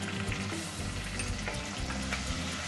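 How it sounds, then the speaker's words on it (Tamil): Small onions sizzle steadily in a hot pan as the base for a fish curry, a dense, continuous frying hiss with faint stirring scrapes and no talk. "இந்த வெங்காயம் வதங்கட்டும்."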